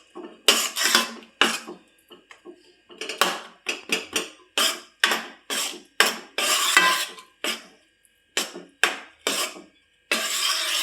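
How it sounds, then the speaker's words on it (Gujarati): A spoon scrapes and clatters in a pan as a milk and Parle-G biscuit mixture for ladoo is stirred over low heat, in brisk repeated strokes with short pauses between them, close and clear with no talk. "ધીમા ગેસે આપણે હલાવવાનું છે."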